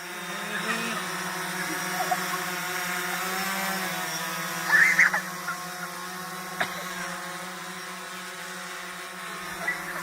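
A hovering drone at a Chinese New Year event in Hengyang buzzes steadily like a swarm of bees, a continuous layered hum with harmonic whine that holds level for the whole stretch, with a few faint voices underneath.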